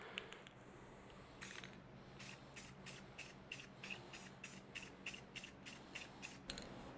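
Short bursts from an aerosol can of gloss black engine enamel hiss onto a Honda XR250 dirt bike exhaust, a rhythmic series of quick sprays, faint and close.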